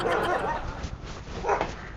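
Dogs kept at a rural compound bark in short yips amid a noisy scene, with people's voices mixed in around them.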